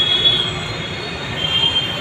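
A metro train rolls past with its wheels squealing loudly and steadily for the whole two seconds, with a rumbling undertone and no voices.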